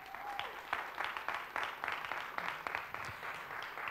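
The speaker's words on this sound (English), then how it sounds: "Round of applause." Audience applause at a Green Humanity talk for Mother Earth, fairly quiet and distant, with individual claps standing out in an uneven patter.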